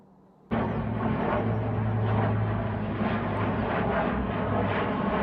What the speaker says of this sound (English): airplanes are flying over my house. Possibly military airplanes?